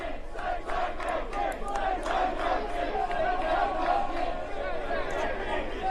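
A large crowd cheers and shouts continuously, loud and dense throughout, with a steady roar of many voices and no quiet gaps.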